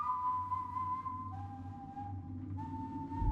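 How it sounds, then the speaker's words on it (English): Death, the figure in the animated film, gives an ominous whistle: a sustained, steady tone held in three long notes, each a little lower than the last, over a low, dark musical drone. "And then there's the whistle."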